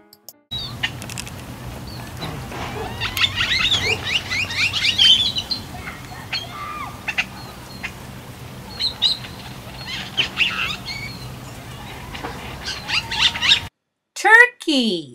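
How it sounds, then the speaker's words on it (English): Small birds chirp and tweet in quick, scattered bursts over a low background murmur, moderately loud and fairly close. "Birds."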